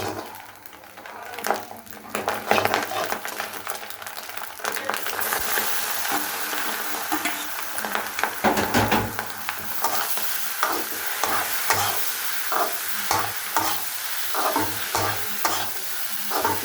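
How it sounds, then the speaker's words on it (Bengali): Winter vegetable stir-fry with egg cooking in a pan, the close, constant sizzle of hot oil broken by frequent scrapes and clatters of a spatula against the metal, growing busier as more food is stirred in. "এখন ভাজিটা দিয়ে দিব।"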